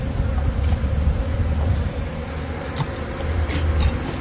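Honey bees being removed from a honey-filled wall cavity in South Africa make a steady, dense, close buzzing drone that carries on throughout without pause.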